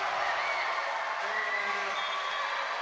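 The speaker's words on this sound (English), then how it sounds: "As you can hear the crowd reacting." A basketball crowd at a 2019 U18 women's final between the WIT Wildcats and Liffey Celtics reacts loudly to a referee's travel call, with sustained cheering, clapping and scattered whoops blending into one dense roar.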